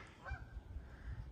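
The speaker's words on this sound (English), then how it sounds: "Canada geese, and they're flying V." Canada geese honk faintly in the distance over a farm, a couple of nasal calls over low outdoor rumble, no voices.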